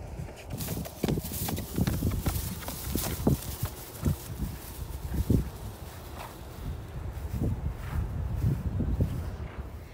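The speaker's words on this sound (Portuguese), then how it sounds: "o cavalo vai se andando" Hooves clip-clop in an uneven walking rhythm on hard ground, close by, with wind rumbling against the microphone.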